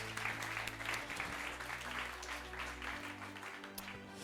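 Applause at a student awards ceremony for two prize winners, a sustained even patter of many hands at moderate distance, with a low hum running beneath it.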